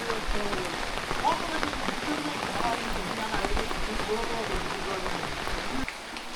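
Steady rain pours down in a village, a continuous close hiss of drops striking surfaces, with faint voices murmuring underneath.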